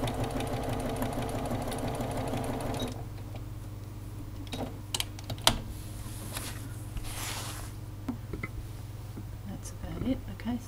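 A sewing machine runs at a steady, rhythmic pace while it sews a zipper onto the spine of a handmade journal. It stops after about three seconds, and a few faint handling clicks and taps follow.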